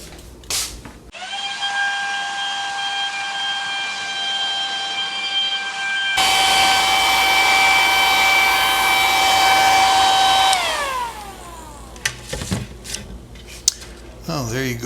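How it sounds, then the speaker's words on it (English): Hair dryer blowing over a painting surface, a steady whooshing hiss with a constant whine that switches to a louder setting partway, then winds down and cuts off, followed by faint handling sounds. "And then we get the hair dryer out"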